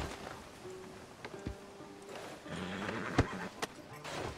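Horse in the Red Dead Redemption 2 video game, with scattered hoof clops and a brief snort or whinny over soft steady rain, a low musical score underneath and a few louder thumps later on.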